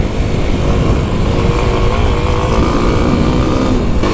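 A 2021 Kawasaki KLX300 motorcycle rides on the street, its engine a loud steady drone under heavy wind rush throughout, with no talking.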